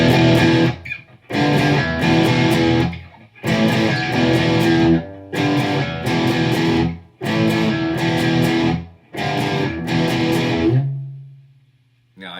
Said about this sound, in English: That is what you would call overdrive or distortion sound to it.